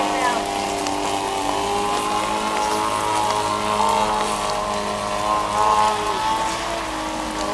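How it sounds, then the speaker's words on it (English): Heavy rain falling at an outdoor airshow, a continuous hiss of drops under the steady drone of an engine. "we've got this heavy rain out here"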